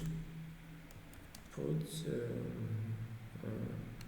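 Keys tapped on a computer keyboard to enter a git command, a few light clicks partly under a low voice that hums and speaks through much of the clip.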